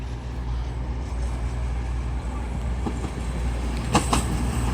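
A Class 220 Voyager passenger train arrives at York station on the East Coast Main Line: a steady low rumble of rolling stock with a few faint clacks near the end, and no talking.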